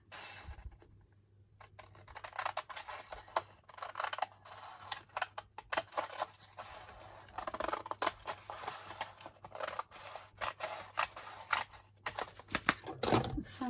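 Paper being cut with scissors for an envelope journal cover, a steady series of close, crisp snips and rustles with short pauses, no voices.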